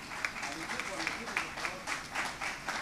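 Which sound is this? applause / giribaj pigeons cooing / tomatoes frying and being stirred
applause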